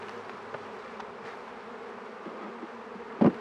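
Honey bees being shaken into a hive while moving beehives, a continuous dense buzzing swarm held at a moderate level close by, with a short louder thump near the end.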